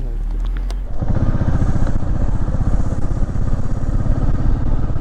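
A two-wheeler motorcycle on a ride to Sinhagad Fort near Pune starts up after a brief clatter, then runs with a steady, loud, close engine chug throughout.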